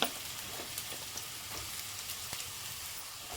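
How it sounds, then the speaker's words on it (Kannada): Finely chopped onions hiss and sizzle in hot oil for chicken curry, a dense, bright frying crackle close to the pan with a few faint stirring taps and no voices. "ಈಗ ಆಯಿಲ್ ಬಿಸಿ ಆಗ್ತಾಯಿದೆ. ಚಿಕ್ಕದಾಗಿ ಎತ್ಕೊಂಡಿರೋ ಈರುಳ್ಳಿ ಸೇರಿಸ್ಕೊತಾ ಇದ್ದೀನಿ."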